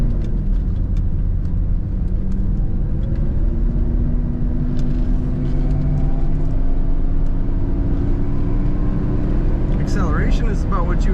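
A 1976 Mercedes-Benz 450SL convertible driving and accelerating, its engine a steady low hum whose pitch slowly climbs as the car picks up speed, with road rumble underneath.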